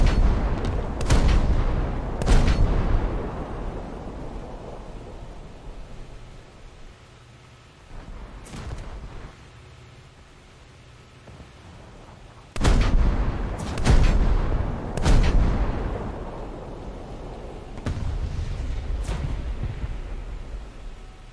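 Naval guns aboard Japanese frigates fire on an enemy ship in a game: repeated loud, deep booms in clusters with long rolling echoes, some shots in quick pairs, no talk.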